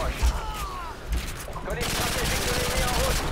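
Rapid gunfire in Call of Duty Modern Warfare 2 played on PC, a few sharp bursts giving way to sustained fast automatic fire that stays loud and dense throughout.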